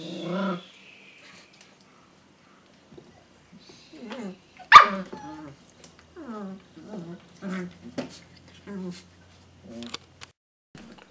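Puppies in crates give scattered short barks and whimpers amid quiet pauses, with a sharp clatter early on and a person talking softly in between.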